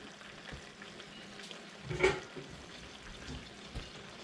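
Meat for spaghetti sauce frying in a pan, a soft steady sizzle with a few louder stirring bursts close by.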